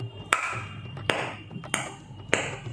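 Four sharp finger strikes on the chati, the edge of a dholak drumhead, each a bright ringing tap with a short decay, evenly spaced and close up with no talking.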